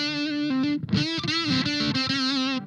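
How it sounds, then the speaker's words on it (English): Electric guitar played through a Maestro distortion pedal set to lower gain, a short phrase of sustained, mildly gritty distorted notes and a brief chord, fairly close and clear, alone without talk. "It sounds pretty organic at this middle range, like a natural organic sounding distortion."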